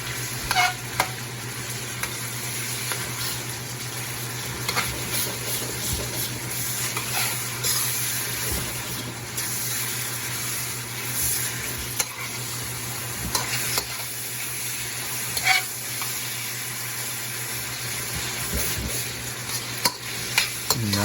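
Chopped vegetables with onion and whole peas stir-fry in a hot pan, a constant close sizzle broken by frequent scraping stirs of a spatula, with no voices.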